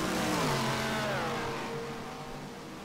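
A 1971 Ferrari Can-Am race car at Road Atlanta screams past under high revs, its sharp engine note sweeping downward as it passes, loud at first and fading slightly toward the end.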